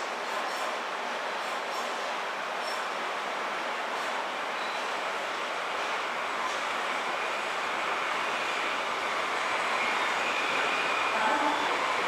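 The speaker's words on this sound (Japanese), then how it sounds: "The local train bound for Asakusa is arriving at track 2" A Tokyo Metro Ginza Line 1000 series subway train bound for Asakusa rumbles steadily into Tameike-Sanno station, a broad, even roar of wheels and motion that swells slightly toward the end.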